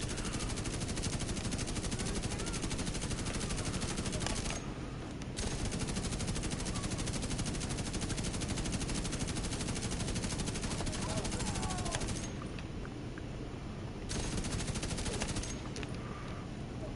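In The Division 2 video game, a Bullet King machine gun fires long uninterrupted streams of rapid shots, dense and loud, with only a few short gaps between bursts.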